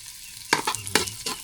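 Food frying in a pan of leftover cooking oil, with a few short bursts of sizzling and stirring over a quiet background.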